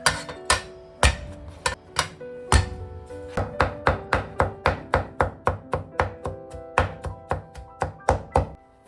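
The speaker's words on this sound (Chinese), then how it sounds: "几瓣大蒜剁成蒜末" Garlic cloves are minced with a knife on a board, dozens of crisp, evenly spaced close-up chops that start a little irregular and settle into a fast steady rhythm, with no talking.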